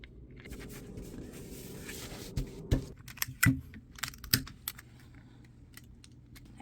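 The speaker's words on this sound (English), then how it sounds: "I'm taping it because I want it not to move because it's not that sticky" Adhesive tape being pulled and pressed down to hold cardstock on a cutting mat, a run of close crackling, tearing and tapping sounds with sharp peaks, set against a faint steady background.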